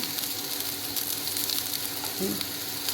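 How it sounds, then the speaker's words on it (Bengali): Water poured over fried onions and spices in a pan for fish curry, a loud steady sizzle and bubbling with some stirring, close and without speech. "পেঁয়াজগুলো এর মধ্যেই দিয়ে দিয়েছি ভেজে নিয়ে জল দিয়ে দিলাম"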